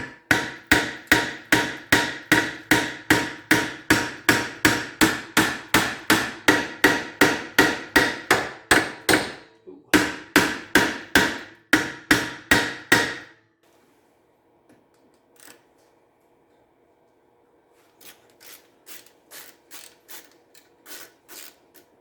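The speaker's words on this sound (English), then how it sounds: "So I'm going to get the hammers and you know, tap this, try to break up any corrosion, get that screw out." Repeated hammer blows on a corroded Honda CR-V brake rotor/drum, a fast steady series of sharp metallic taps with a brief pause, then stopping; a few faint clinks follow.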